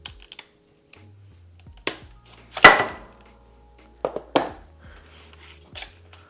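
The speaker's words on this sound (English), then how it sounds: "Let's cut our strap here." A packaging strap on a box holding a teak shower stool is cut, giving a few sharp, close snaps and clicks separated by near silence.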